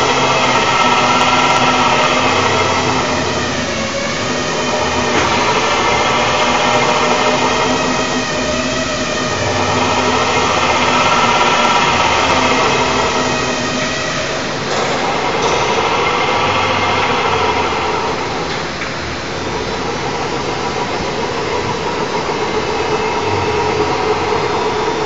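A Quantum ML170 rotary stabilizer runs in underway mode on a dry test, giving a steady, loud mechanical hum with a cyclic swell and fade every few seconds, continuous and alone with no voices.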